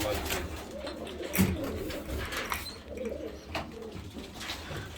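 Pigeons cooing inside a loft, soft repeated throaty coos from several birds close by, with faint rustling and someone speaking quietly over them.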